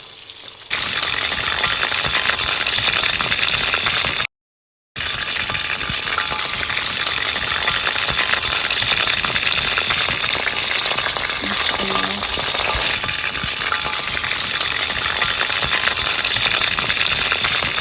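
Fish sizzles and crackles in hot oil with a dense, continuous frying hiss, broken only by one brief silent gap.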